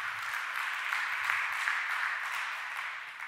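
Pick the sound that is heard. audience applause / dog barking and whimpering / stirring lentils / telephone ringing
audience applause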